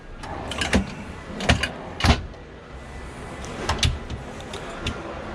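Galley drawers aboard a Windy SR44 Blackhawk yacht slide and shut, giving several sharp knocks and thuds in irregular succession against a steady background hiss.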